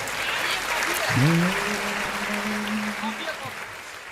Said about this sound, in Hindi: चाय वाले के ताली बजा यार जोरदार